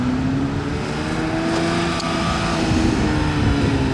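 A modified Porsche GT3 RS passes the Monaco toll booth with a loud, steady engine roar that holds close and strong throughout, with no voices.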